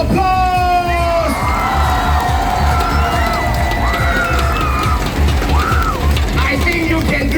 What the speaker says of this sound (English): Sector D, here's one big round of applause.